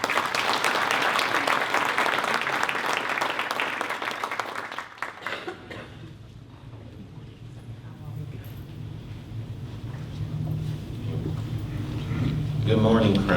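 A school-event audience claps for high school presenters, with loud, dense applause for about five seconds that then drops away, leaving quieter room noise and a voice starting to speak.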